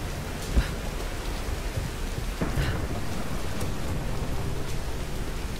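Steady rain hisses in the video game Tomb Raider while thunder rumbles low beneath it, with a couple of brief heavier cracks early on and a constant wash of downpour throughout.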